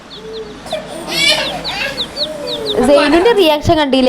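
A small chick peeps in repeated thin, high chirps close by at a family Eid gathering, overlapping with people talking and excited voices toward the end.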